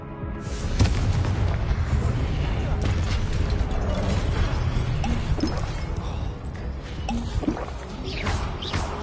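The Confringo fire-blast spell from Hogwarts Legacy erupts in a series of booming, crackling explosions over rumbling mechanical clatter and debris, loud and sustained, with a brief shouted incantation in the mix.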